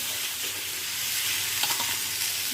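Potatoes fry with dried chilli and turmeric, a loud, even, hissing sizzle close by for the whole stretch, with a few faint stirring touches and no speech.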